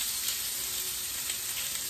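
Lamb chops with rosemary sizzle steadily on a hot grill, a close, dense, continuous hiss with no talking over it.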